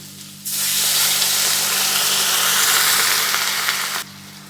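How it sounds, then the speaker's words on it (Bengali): Water poured into a pan of frying potatoes, onion and garlic bursts into a loud, steady sizzle and hiss that holds for about three and a half seconds, then stops abruptly. "এবার জল দিয়ে দিচ্ছি"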